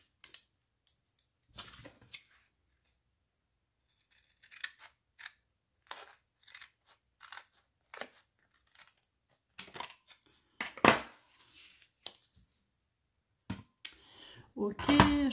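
Lidl pinking scissors snip through material in a series of short, crisp cuts, some in quick bursts, separated by quiet pauses, with a little soft speech near the end.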